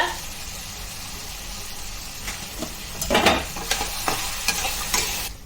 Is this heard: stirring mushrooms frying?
yes